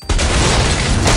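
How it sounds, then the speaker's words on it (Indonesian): A motorcycle rigged with a bomb explodes in a film scene, a sudden loud boom that stays as a dense, sustained roar of blast and debris for over a second, with no talk. "tiba-tiba motor itu meledak."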